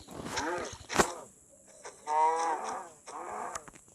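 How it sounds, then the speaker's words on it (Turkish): Minecraft cow moos in a video game, a couple of low drawn-out calls sounding near and clear, with game sound effects between them and no talking. "Şurada bir inek görmüştüm."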